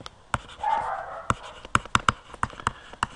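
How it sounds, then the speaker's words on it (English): A dog barks upstairs in a house, a series of short, sharp barks in an uneven rhythm, somewhat muffled and indoors, with a brief louder burst early on and no talking. "Hopefully you don't hear the dog barking upstairs."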